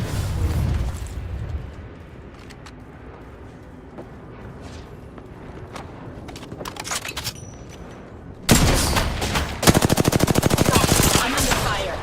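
Gunfire in the indie horror video game Summon the Hoblings: after a quieter stretch of low rumble with scattered sharp cracks, dense rapid bursts of machine-gun fire erupt loud and close, continuing to the end.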